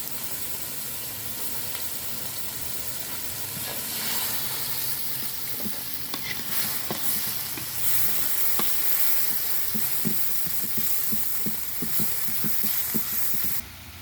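Red chili and palm sugar fry in a pan for dry tempeh as a little water goes in, a steady loud hissing sizzle with intermittent scraping stirs and taps, close up and with no talking.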